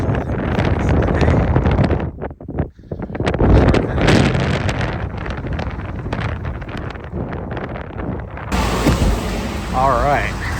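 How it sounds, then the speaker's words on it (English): Strong, dusty wind in Minnesota buffets the microphone with a continuous loud roar, dropping briefly and then surging back. "So. Dusty and windy."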